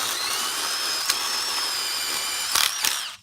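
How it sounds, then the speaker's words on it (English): A power drill bores a hole in concrete with a fast-cutting bit, a loud steady high whine with a few sharp clicks and rattles before it stops abruptly. "Really nice drill bit"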